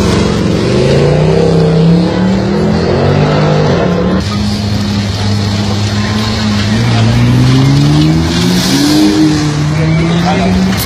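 A car engine revs and accelerates loudly and continuously, its pitch climbing in steady sweeps as it passes close by, with people talking over the engine noise.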